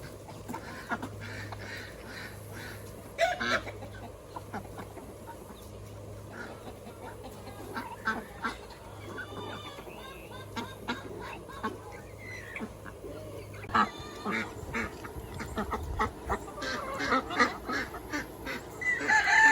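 Backyard chickens cluck and squawk while being fed treats, with scattered honking, goose-like calls and rustling over a steady low hum, growing busier and louder toward the end.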